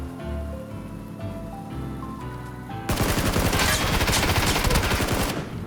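Rapid automatic gunfire from a SCAR rifle bursts out loud and crackling in PUBG, following a stretch of music-like tones, the shots rattling on densely for several seconds.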